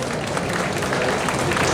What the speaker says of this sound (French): On l'applaudit bien fort, il lui donnera un coup de main.